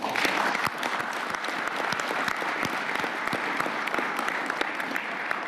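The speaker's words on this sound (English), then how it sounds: "opened with a round of applause for Team Korea" Sustained round of applause from a group gathered at a presidential cabinet meeting at the Blue House, steady dense clapping filling the room without pause.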